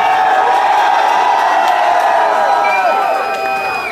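Live hip-hop concert crowd in Arizona cheering, whooping and shouting in a loud continuous roar that holds steady and tapers a little near the end, with a voice speaking over the noise.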